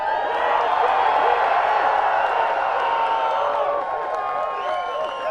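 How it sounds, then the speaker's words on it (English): A large, loud disc golf tournament crowd cheers and roars in a continuous dense wash of voices, with whoops and clapping mixed in, easing slightly toward the end. "This is one of the loudest crowds, if not the loudest crowd in disc golf."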